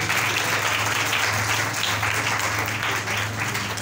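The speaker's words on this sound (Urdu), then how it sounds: "خدا ان کے جلال کے لیے زوردار تالیاں بجا دیں۔" A church congregation claps loudly together at a Palm Sunday service, a dense, steady applause that holds for the whole stretch without voices.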